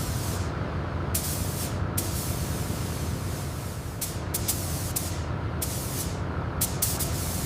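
A spray gun lays a metallic paint coat onto a 1979 limousine jet, giving a continuous airy hiss broken by several louder, sharper bursts of spraying.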